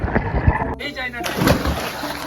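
Water splashes as someone bathes in a home-made swimming pool, a brief close slosh and splatter with a voice speaking over it.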